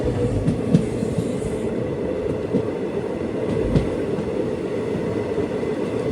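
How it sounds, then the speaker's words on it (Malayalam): A train on the Talguppa to Shivamogga line pulls into Konakavalli station, its steady rolling rumble broken by occasional wheel clicks and a few sharper knocks, loud and close throughout with no voices. "ട്രെയിൻ ഇപ്പോൾ കൊനകവല്ലി സ്റ്റേഷനിലേക്ക് ഇതാ എത്തുകയാണ്"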